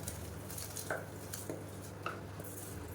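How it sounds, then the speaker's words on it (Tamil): Soaked rice is stirred into a pot of Madurai-style mushroom biryani, making faint, sparse scraping and clinking taps of a spoon against the pot over a low steady hum. "இப்போ வந்து நம்ம ஊற வச்சுருக்க இந்த அரிசியை சேர்த்துக்கணும்"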